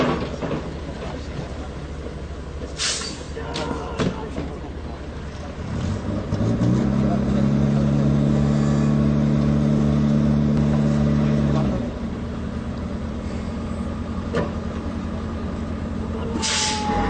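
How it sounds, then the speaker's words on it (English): Scania tow truck towing a Bofors gun, its engine a steady loud drone that rises midway and holds for several seconds before dropping back, with occasional clanks and a brief hiss over rumbling background. "You will now see the Bofors gun towed by a tow truck called the Scania."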